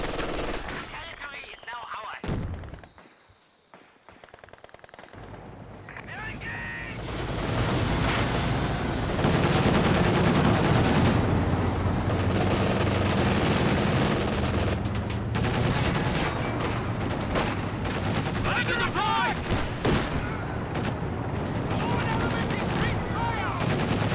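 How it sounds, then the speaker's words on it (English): Machine gun fire rattles through a 2v2 match of Company of Heroes 2 alongside mortar and half-track combat, with dense continuous bursts building after a brief lull and a commentator talking over the battle. "Falling out of the machine gun fire."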